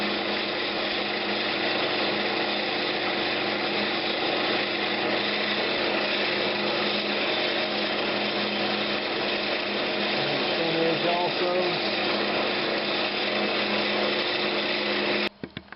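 Power sanding of a Brazilian cherry lidded box spinning on a woodturning lathe with 220-grit paper, a steady continuous whirring drone that runs close and loud throughout, then stops abruptly at the end with a few faint knocks.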